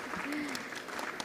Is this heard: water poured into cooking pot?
no